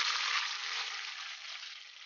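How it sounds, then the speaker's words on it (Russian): Buckwheat and chicken sizzle steadily over high heat in a small hot pan, a close, even hiss lasting a couple of seconds with no talking. "На сильном огне поджариваем до золотисто-цветой нижней стороны."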